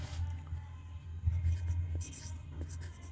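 Marker or chalk scratching across a classroom board while a geometry proof is being written, soft intermittent strokes under a low background hum, with faint speech nearby.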